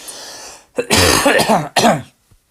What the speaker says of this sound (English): Excuse me, chesty cough again.